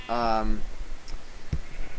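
A single clear sheep bleat in a train-building game, short and wavering, followed by faint clicks and quiet game ambience.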